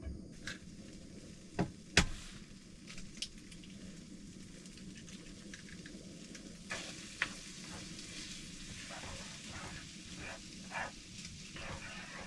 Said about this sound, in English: I'm hoping that this will be enough to cook these eggs and warm everything up